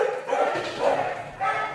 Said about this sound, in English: get ready to hear some barking